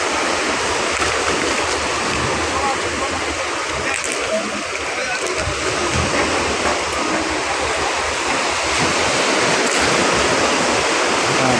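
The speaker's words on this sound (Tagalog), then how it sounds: "dahil malalaki po yung alon" Big waves break and churn along the shore of Manila Bay, a loud continuous rushing wash of surf heard close by without any voices.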